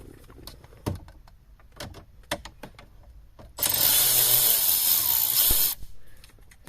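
Ratcheting and clicking while dashboard screws are removed from a VW Touareg interior: scattered sharp clicks and taps, then a loud sustained burst of broadband whirring noise from a tool lasting about two seconds, close by.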